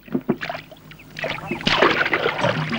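A wooden boat is rowed with an oar across water, with a few splashy strokes and gurgling close by, growing busier toward the end.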